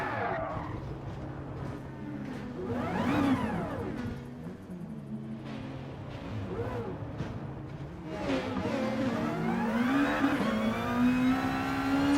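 A Nissan Motul Autech GT-R Group 2 race car in Gran Turismo at the Nürburgring GP, its engine revving up and down in repeated rising and falling sweeps, with whining gear changes and a louder surge of acceleration near the end.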